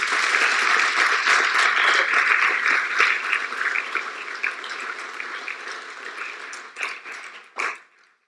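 Church congregation applauding during a Spanish-language sermon, a dense, loud wash of clapping that holds steady and then thins out, with a few last scattered claps before it stops.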